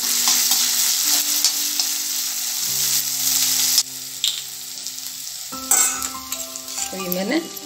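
Vegetables for veg spring rolls sizzle steadily in a hot pan, with stirring clinks and scrapes breaking through near the end, close and fairly loud.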